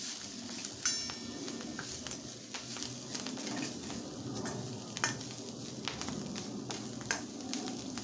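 Coriander being sautéed in a pan for dal, a steady close sizzle with stirring scrapes and occasional sharp clinks of a spoon against the pan, no voices.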